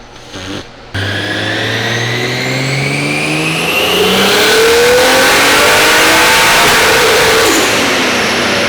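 A JZ-engined Nissan S13 coupe screams on a dyno run, the engine catching after a short blip and then climbing steadily in pitch to a loud sustained high-rev wail before easing off.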